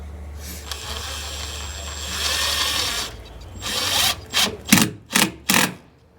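A power driver whirs steadily as a screw sinks into wood without pre-drilling, then several short, sharp bursts follow as it drives screws home nearby on a cabin's screened porch.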